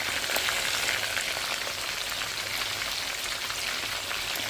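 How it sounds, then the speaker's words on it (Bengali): Pieces of chicken fry in hot oil, giving off a steady, even sizzle with fine crackling spits, close and moderately quiet, continuous with no voices over it. "চিকেনগুলো খুব সুন্দর করে কিন্তু ফ্রাই হচ্ছে।"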